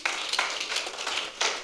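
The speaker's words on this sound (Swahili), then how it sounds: "Nipigieni makofi hapo." A church congregation clapping together, several sharp, fairly quick claps in a loose rhythm, heard at moderate distance with no voices over them.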